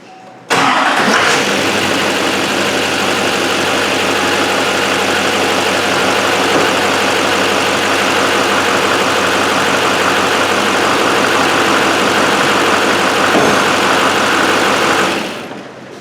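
A Chevy/GMC pickup with a Duramax engine cranks, catches and settles into a loud, steady idle that runs without letup for about fifteen seconds before cutting off.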